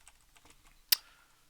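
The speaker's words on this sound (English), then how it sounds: "My keyboard is not steady. It's on a rock, so it's making a noise." A computer keyboard sitting unsteadily on a rock gives a few faint, soft clicks, then one sharp, loud clack as it rocks, trailing off quickly.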